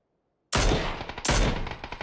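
Two loud, close gunshots ring out in PUBG after a moment of silence, each with a booming report and ringing tail, roughly three-quarters of a second apart.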